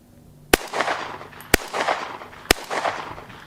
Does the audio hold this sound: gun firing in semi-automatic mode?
yes